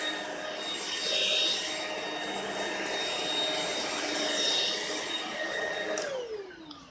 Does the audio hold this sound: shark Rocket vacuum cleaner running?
yes